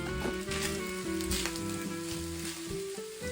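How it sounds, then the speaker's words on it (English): Ground meat sizzles steadily in a hot pan while it is stirred, a close, continuous frying hiss broken by light scraping of the utensil, with no one talking. "Just keep stirring the meat till it's done, which it pretty much is at this point."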